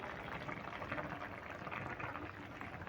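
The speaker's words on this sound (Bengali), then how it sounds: "এবার দিয়ে দেবো এই আমুলের দুধটা" Amul milk mixed into warm water pours steadily into a cooking pot for a home-style shukto, a soft continuous liquid stream with no break and no voices.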